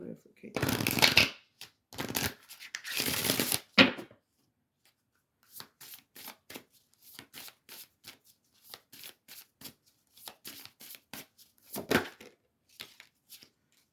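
Oracle cards riffled and shuffled close by, two bursts of brisk shuffling followed by lighter scattered flicks and taps as cards are drawn and laid down, with quiet pauses between.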